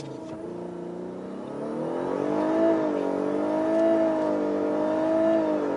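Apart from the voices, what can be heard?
Lexus LS 500h hybrid car accelerating to 100 km/h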